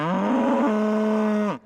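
A single long cow moo at Springbrook Dairy in Stephenson County, Illinois, loud and close, holding a steady low pitch for over a second before cutting off, with no talk.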